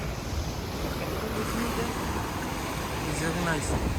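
Strong wind buffets the microphone on the coast at Garachico, Tenerife, near old lava rock, in a steady, loud roar with no breaks, carrying a hint of surf beneath it.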